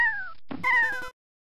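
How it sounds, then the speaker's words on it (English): A cat lets out two drawn-out, strange meows, the first falling in pitch and the second longer and wavering, both loud and close, then silence. "we heard a weird, like, cat meowing noise"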